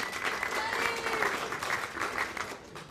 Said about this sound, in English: Round of applause for Buddy, the mayor